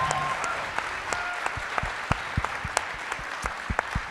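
Audience applause at a political event honoring two collegiate athletes, a moderate steady patter of clapping with scattered sharper individual claps standing out.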